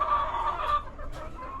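Hens cluck steadily on a small mini farm after feeding and watering, a close, continuous run of fowl calls that thins out toward the end, with no talking.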